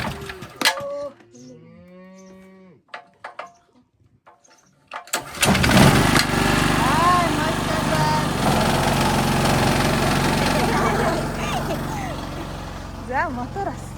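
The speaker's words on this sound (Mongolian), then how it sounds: "За мотор ассан" Gasoline-powered water pump motor at a well, starting up with a sudden loud mechanical roar that then runs steadily, with cattle mooing and voices beforehand and a voice over the engine.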